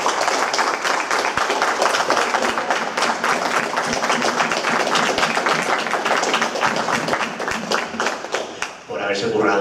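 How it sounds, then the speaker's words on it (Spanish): A conference audience in Jaén breaks into sustained, dense applause, many hands clapping loudly together for several seconds before it fades. "Yo me gustaría pedir un aplauso para Vicky y para Marimar por haberos currado."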